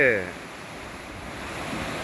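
Open sea waves wash around a rock off the Inayam coast, heard from a boat as a steady, broad rushing roar with wind noise, close and continuous; a brief voice sounds at the very start.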